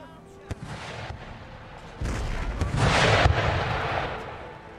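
Artillery guns firing shells in Empire Total War during a colonial siege battle: a series of deep booming cannon blasts, building into a louder rolling volley midway, with a voice briefly heard among them.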